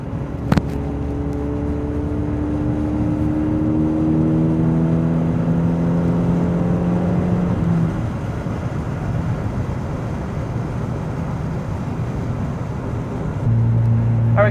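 A car with a homemade, zero-cost exhaust system revving, the engine note climbing in rising harmonic sweeps and then dropping, a loud aggressive drone that runs steadily throughout with no one speaking.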